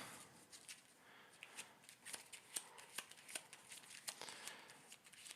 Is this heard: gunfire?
no